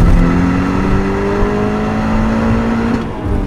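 Porsche 944 Turbo engine revving high toward 7000 rpm, a loud, steady sustained drone with a rising tone that holds for about three seconds before easing off.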